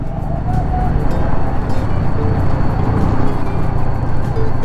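A motorcycle engine runs steadily on a trip across Bohol, a continuous loud rumble with road and wind noise throughout and no clear speech.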